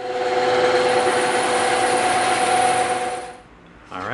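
A bandsaw cuts through EVA foam with a loud, steady whirring drone that holds for about three seconds, then drops away as the cut ends and the blade spins on.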